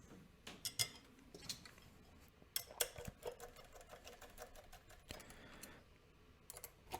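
A manual screwdriver driving screws to close up the back of a board, giving a run of sharp, irregular clicks and ticks, close and fairly quiet, with brief pauses between bursts.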